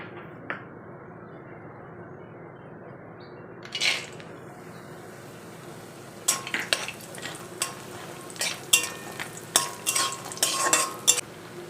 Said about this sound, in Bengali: সর্ষের তেলটা গরম হয়ে গেছে এবার আমি বড়িগুলোকে দিয়ে দিচ্ছি